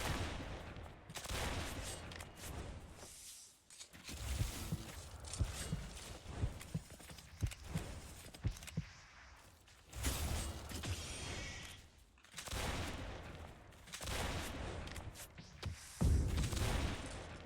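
Guns in the Roblox game Arcane Odyssey fire in repeated bursts, a dense run of sharp cracks and blasts broken by brief pauses, loud and busy over a game soundscape.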